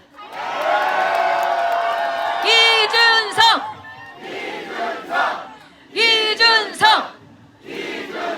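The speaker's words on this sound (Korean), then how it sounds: "더 큰 박수와 함성이 지금 필요합니다." A crowd at an outdoor presidential campaign rally at Seokchon Lake Park cheers and shouts in unison, with a long roar followed by rhythmic two-beat chants of a candidate's name, loud and close.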